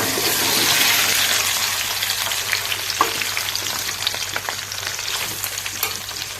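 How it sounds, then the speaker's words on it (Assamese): Indian jujubes fry in hot mustard oil for a sweet pickle, a steady close sizzle with bubbling crackle and the occasional soft clink of stirring, and no one speaking over it. "বগৰীখিনি এনেদৰে ভাজি লৈছোঁ"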